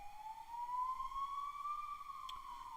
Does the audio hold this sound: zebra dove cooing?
no